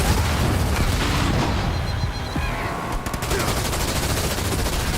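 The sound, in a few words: gunfire from ground troops in Halo Wars 2 video game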